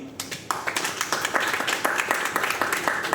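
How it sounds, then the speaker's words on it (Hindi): A crowd bursts into steady applause, many hands clapping in a dense, lively patter that swells and holds without pause. "एक जोरदार ताली"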